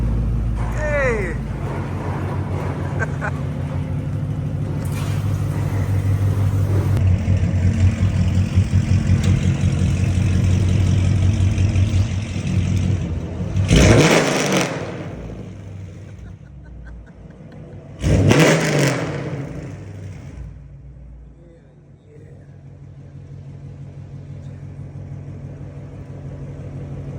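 A car engine fitted with newly installed Temu exhaust headers and the mufflers taken out, rumbling loudly with two sharp, close revs, each one swelling and then falling away, while excited voices shout over the engine.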